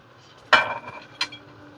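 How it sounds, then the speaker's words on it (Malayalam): Fried chicken pieces tipped into a pan of chilli chicken gravy, giving two sharp clattering knocks of metal and food against the pan, close and fairly loud, with a faint background hum. "ഇനി നമുക്ക് ചിക്കൻ വറുത്ത് വെച്ചത് അങ്ങോട്ട് ഇട്ട് കൊടുക്കാം."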